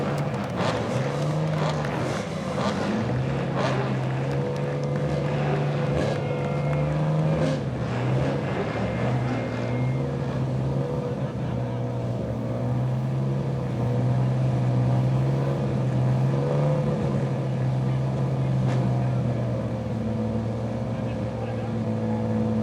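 Touring race car engines starting and idling together at a night race, a loud layered drone of revving motors with rising and falling engine pitches, sustained and close, with an announcer's voice over the PA partly audible.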